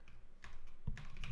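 Quick burst of computer keyboard typing in a Rust programming session, a few soft close clicks followed by a firmer key press, quiet and without speech.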